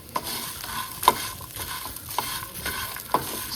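Boiled potatoes, chickpeas, makhana and peas being toasted and stirred in a pan, with a few sharp scraping clinks of the spoon against the metal over a soft, low sizzle, close by and fairly quiet.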